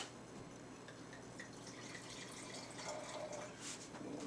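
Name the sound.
rinsing a wine glass with water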